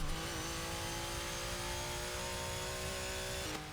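A Porsche 962C race car engine pulls hard under throttle in Forza Motorsport 6 at Virginia International Raceway, a loud sustained high-pitched drone that climbs steadily before a brief gear change near the end.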